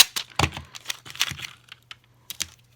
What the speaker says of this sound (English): I'm just going to add the contact paper.